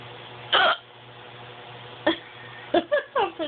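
Repeated hiccups from a person lying in bed, sharp short bursts, one early then a quick cluster of three or four near the end, close and loud with no talk.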